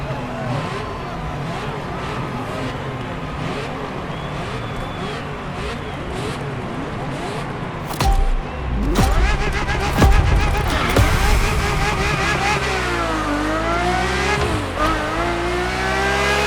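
A Ferrari F50 engine in The Crew Motorfest racing game, revving and shifting through gears with a rising and falling wail that swells louder toward the end, with faint tire noise and music underneath.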